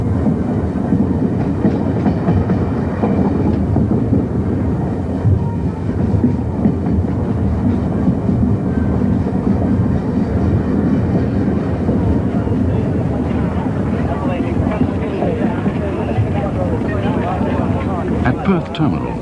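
Steam locomotive 3801 rumbles steadily past with rhythmic clatter and chugging, loud and continuous, while a voice talks over it.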